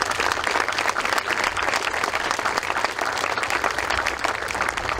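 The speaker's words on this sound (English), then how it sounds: "Let's give them a big round of applause." An audience applauds park district commissioners at an event for the 50th annual No Glove Nationals, a dense, continuous wash of clapping throughout at steady loudness.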